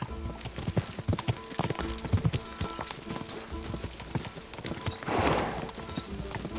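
Horse hooves gallop in Kingdom Come: Deliverance 2, a quick, rhythmic clip-clop running throughout at moderate distance and fairly quiet, with a brief rushing swell near the end.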